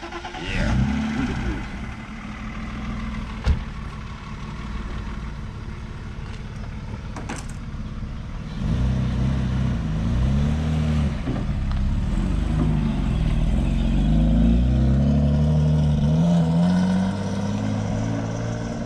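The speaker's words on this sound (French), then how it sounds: "C'est cool le bruit aussi du 6 cylindres, bien comme ça." A six-cylinder camper van engine runs steadily, then swells into a louder, sustained rev with rising and falling pitch in the second half, close and continuous.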